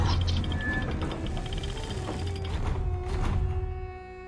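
A door-opening mechanism in a video game map grinds with steady gear and ratchet clicks, loud and close, running continuously before easing off at the end, with no talk over it.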